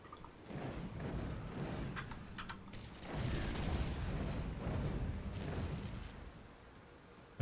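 Elementalist fire blasts in Grim Dawn boom in a dense rumbling wash with a few crackling bursts and mechanical clanks over steady combat noise, no voice heard.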